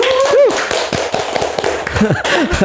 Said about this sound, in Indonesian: Iya kasih tepuk tangan dong.